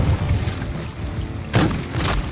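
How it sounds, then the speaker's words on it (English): Shotgun blast in a competitive video game match: one sharp, loud burst followed by a second shot shortly after, over a busy background of game sounds, with no talk. "Can he follow it up with a win? Pulls out the shotgun."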